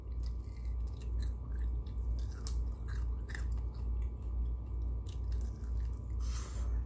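Close chewing of crunchy fried chicken wings coated in arrowroot starch, with soft crackling bites and wet mouth noises over a steady low background rumble, no talking.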